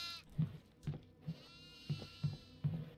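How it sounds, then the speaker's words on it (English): Goats bleat repeatedly in the horror video game Devour, roughly six short calls in an irregular rhythm over about three seconds, moderately close and standing alone with no talk. "The attic goats are out and about."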